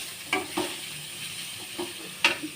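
Onions fry in a pan with a soft background sizzle, punctuated by a few brief stirring scrapes and clinks of a spoon against the pan.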